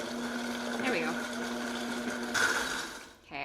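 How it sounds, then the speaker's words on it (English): A blender whirring at high speed with a steady motor hum, briefly changing pitch as the load shifts, then cutting off near the end. "This high-powered blender will get really hot."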